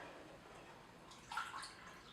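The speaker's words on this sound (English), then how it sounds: "there is a fill line inside here, and you put distilled water" Distilled water is poured into an essential oil diffuser, heard as a faint, soft trickle and splash against low background noise.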